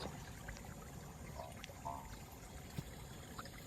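Faint water runs in a steady, quiet stream through a pipe connection, with a few soft clicks over low background rumble.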